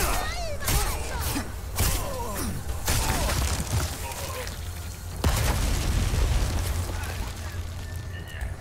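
Bombs exploding in Resident Evil 4 gameplay, repeated loud booms and crashing bursts with debris over a busy, constant game soundscape, a voice talking over parts of it.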